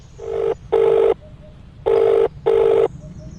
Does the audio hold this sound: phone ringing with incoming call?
yes